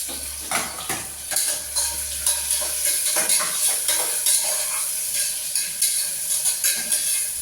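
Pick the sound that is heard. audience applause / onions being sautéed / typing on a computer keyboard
onions being sautéed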